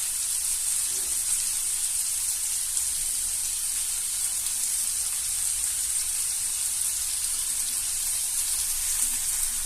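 A turkey escalope fries in a stone pan with a little fat, giving a steady, even hiss and crackle that continues unbroken and fairly close, with no talking.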